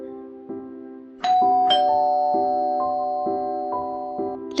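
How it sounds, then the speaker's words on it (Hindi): A doorbell chimes late at night, ringing a repeated ding-dong tune of sustained, clear tones that overlap and ring on close by. "लेकिन तभी अचानक फिर से डोरबेल रिंग होने लगी।"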